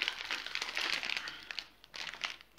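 A small plastic bag crinkles and rustles as biscuits are packed into it for homemade martisor treats, close and fairly quiet, in a few short bursts of crackling with brief pauses between them.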